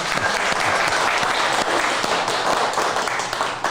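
Audience at a live woodturning demonstration applauding: dense, steady clapping from a room full of people throughout, fading slightly at the end.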